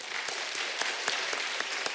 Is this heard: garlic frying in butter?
no